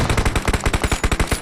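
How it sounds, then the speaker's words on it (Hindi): Rapid, sustained automatic fire from an M249 light machine gun in a shooter video game, about a dozen evenly spaced loud shots in just over a second, close and alone. "क्योंकि M249 एक बार चलती हो तो 100 गोली जब तक ख़त्म नहीं हो जाए मैं उसे रोकता नहीं हूँ।"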